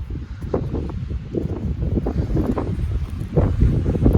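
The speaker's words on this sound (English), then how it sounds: "Super windy" Strong wind buffets the microphone in continuous low, gusty roaring bursts in the Grayson Highlands, Virginia, loud and close, with no voices.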